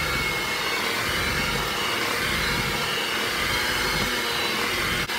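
A mixer running continuously as melted unsalted butter is blended into a sweet potato gooey butter cake batter, a steady, loud whirring hum with no pauses.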